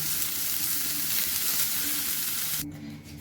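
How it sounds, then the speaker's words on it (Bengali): Broccoli frying lightly in oil in a pan gives a continuous close sizzle that cuts off abruptly near the end, leaving only a low background hum. "ব্রকলিগুলো আমার হালকা করে ভাজা হয়ে গেছে"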